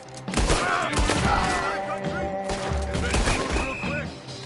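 Dense gunfire erupts in the Red Dead Redemption 2 video game, enemy guns crackling in a steady fusillade of overlapping shots over a rumbling game score, with voices speaking in the mix.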